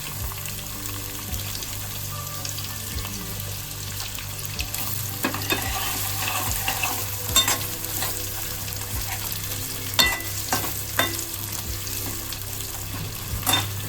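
Chopped onion and green chili sizzle in hot tempered oil in a pan, a steady crackling fry punctuated by the scrape and knock of a spoon stirring.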